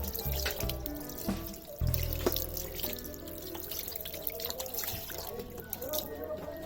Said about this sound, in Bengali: আমি হাতটা ধুয়ে ফেললাম